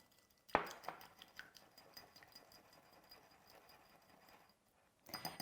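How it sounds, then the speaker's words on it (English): A small mini whisk clinks against a bowl while stirring an oil basting mixture for ratatouille vegetables, quiet scattered metallic taps with a sharper clatter at the start and end. "I'm just going to use our little mini whisker to whisk this around"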